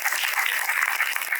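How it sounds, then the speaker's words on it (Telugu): An audience at a Devi Navaratri religious discourse claps steadily, a dense, even burst of applause filling the short moment with no voices over it. "చప్పట్లు కొట్టండి"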